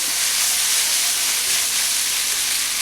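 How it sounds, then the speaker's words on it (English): Ginger, chili and garlic hitting a hot wok, giving a loud, steady, broadband sizzle and hiss that holds evenly throughout with no pauses. "So now I want to chuck in the ginger, chili and garlic."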